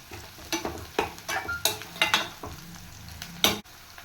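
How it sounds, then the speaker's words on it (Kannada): Okra frying with turmeric in a pan, a steady sizzle broken by a series of stirring scrapes and clinks roughly every half second, close and fairly loud with no voices. "ಒಂದೇ ನಿಮಿಷ ಫ್ರೈ ಮಾಡ್ಕೊಳ್ಳೋವಂಥದ್ದು"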